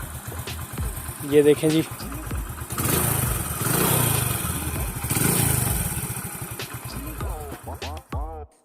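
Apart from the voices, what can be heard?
Honda 100 Pridor motorcycle engine idling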